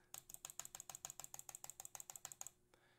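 Rapid, hard clicking on a computer mouse, recorded through a Tonor TC-20 XLR microphone, about twenty sharp clicks in a fast steady rhythm, close up, then stopping.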